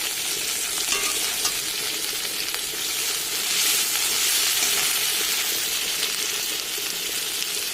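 Tomato and salt go into a spice mix frying in a pan for a home-style chicken egg curry, a loud, continuous hiss and sizzle with faint stirring scrapes throughout.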